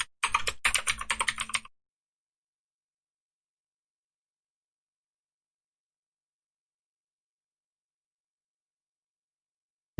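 Quick burst of computer keyboard typing entering a command, a short close rattle of keystrokes lasting under two seconds, followed by silence.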